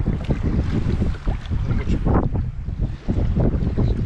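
Strong gusting wind buffets the microphone on open water while kayak fishing in the UK, a loud continuous roar with wave sounds beneath, no voices.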